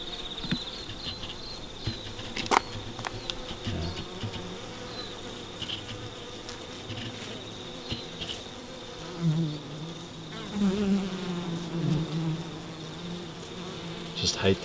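A faint, steady insect buzz hums at the front of a wintering beehive where a wasp sits, with some low murmurs and small knocks around it.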